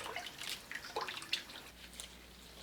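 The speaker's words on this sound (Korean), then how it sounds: "바로 찬물에 헹굽니다" Blanched green garlic stalks and leaves rinsed under cold running water in a kitchen, giving soft trickling, dripping and splashing with a few brief sharper splashes, fairly quiet and close, with no talking.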